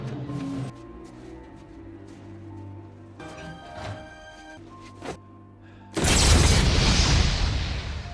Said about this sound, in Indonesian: sepatu tersebut langsung meledak ketika dilempar